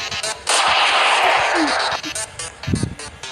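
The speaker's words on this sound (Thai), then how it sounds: "แกสเตอร์บัสเตอร์ยิงมัน" A Gaster Blaster fires in a video game, letting out a long, loud roaring blast that lasts about a second and a half. Shorter game hits and effects come before and after it, and voices are briefly heard.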